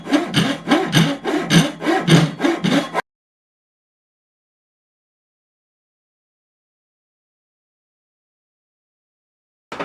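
Hand saw cutting through wood for a middle lap joint, about ten quick rhythmic rasping strokes in the first three seconds, loud and close, then silence until a brief resumption at the very end.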